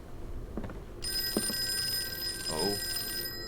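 A telephone rings in the Call of Cthulhu video game, a steady electronic bell tone starting a second in and sustained for over two seconds, heard alone with faint footsteps and a brief low voice-like sound beneath.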